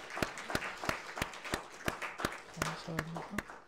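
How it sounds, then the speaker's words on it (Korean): A church congregation's encouraging applause during a Sunday worship service, heard as faint, evenly spaced claps in a steady rhythm, with a brief murmur of voices partway through. "우리 건강하시고 또 평안하시도록 격려 박수하겠습니다"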